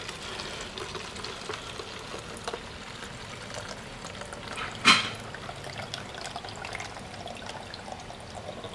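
Water drains from a diesel fuel purifier as a faint, steady liquid hiss and trickle, with one brief sharp clink partway through.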